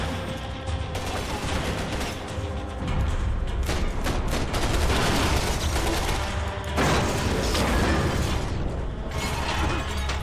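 Dense, loud gunfire fills a Max Payne 3 firefight, rapid overlapping shots and bursts with mechanical clatter and impacts continuing almost without pause.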